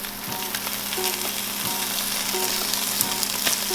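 Salted mackerel pan-grilling under a lid for a Japanese breakfast, a steady close crackling sizzle with small regular pops, no one speaking.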